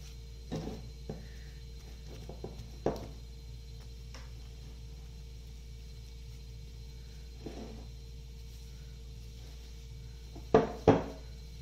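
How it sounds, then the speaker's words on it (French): Butter and sugar are mixed in a bowl, heard as sparse taps and clinks of a utensil against the bowl with long quiet gaps and a faint steady hum, and no speech. "On remélange bien le beurre et le sucre."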